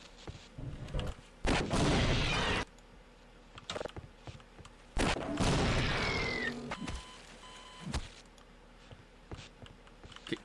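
Gunfire from the video game Half-Life: Opposing Force, two long loud bursts of shots separated by quieter stretches with scattered single pops, heard alone without talk.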